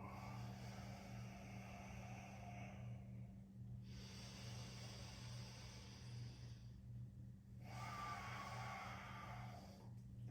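Slow, audible ujjayi pranayama yoga breaths, a soft hissing ocean-like rush through a narrowed throat, two long breath cycles separated by brief pauses, close and quiet over a faint steady hum.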